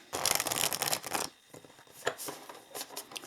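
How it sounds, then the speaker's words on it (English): Close-up riffling and flapping of tarot cards being shuffled, quick papery bursts in uneven clusters with short pauses between them, no voices. "So I'm going to shuffle them a little bit."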